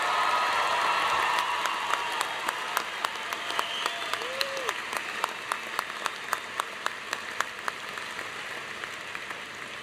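Applause for graduates at a 2014 Drexel University commencement, a broad crowd wash that thins out over the seconds, leaving a regular series of sharp, isolated claps.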